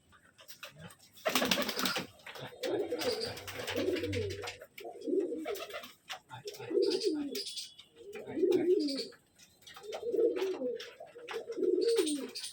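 Pigeons kept in a confined loft coo in repeated low, throaty phrases at a steady rhythm, close by, after a brief burst of flapping or rustling at the start.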